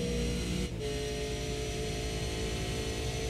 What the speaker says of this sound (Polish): gdzie słychać wyśmienicie pracę silnika